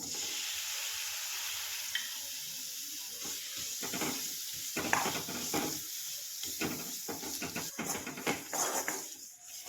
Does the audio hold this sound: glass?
no